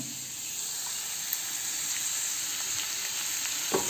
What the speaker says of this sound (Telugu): ఇప్పుడు ఆనియన్ కొంచెం ఫ్రై అయ్యే వరకు మనం ఫ్రై చేద్దాం